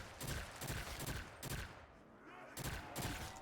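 Rapid bursts of video game gunfire crack out in several clustered volleys, loud and close, with brief gaps between them and faint background game noise.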